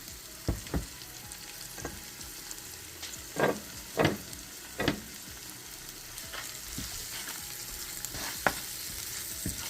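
Onions and curry powder frying and toasting in a pan, a steady close sizzle broken by several louder scraping strokes as the mixture is stirred, with no talking.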